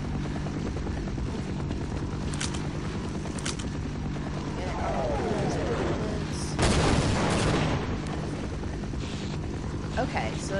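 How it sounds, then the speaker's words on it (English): Combat helicopter in the game Half-Life, its rotor thumping steadily and loud while bursts of gunfire crackle over it and a voice speaks at times. "that helicopter is totally trying to get me"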